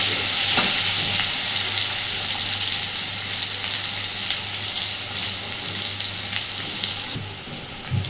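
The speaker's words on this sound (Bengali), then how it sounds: "এবার আলুগুলোকে একটু সুন্দর করে আগে ভেজে নেব" Strips of potato frying in hot oil in a home kitchen, a steady, close, loud sizzle that continues throughout, with occasional stirring or utensil taps and no talking.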